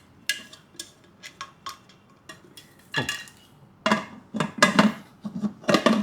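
A Prestige pressure cooker lid is handled and fitted in a kitchen, giving a series of sharp metallic clanks and taps, sparse at first and then busier and louder as the lid is worked into place.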